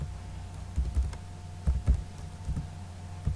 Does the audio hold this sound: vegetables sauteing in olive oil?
no